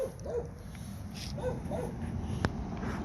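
A dog barks a few times at a distance, short yips spaced apart, over a low background hum; a sharp click lands near the end.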